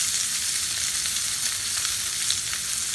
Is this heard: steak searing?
yes